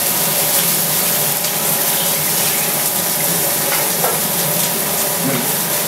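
Rib eye steak searing in a hot pan, a steady close sizzle and crackle of fat with a few clatters as the meat is flipped, no talking.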